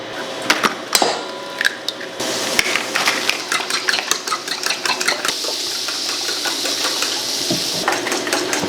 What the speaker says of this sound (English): So I'm just gonna scramble some eggs.